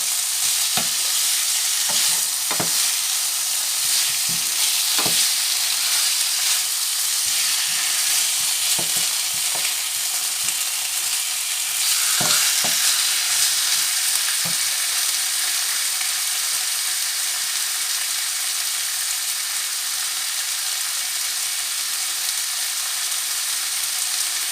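Spices sizzle and fry in a pan for a Thai-style red chicken curry, a steady hiss throughout with repeated scrape-and-stir knocks of a utensil against the pan.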